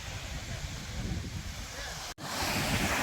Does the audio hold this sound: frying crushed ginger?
no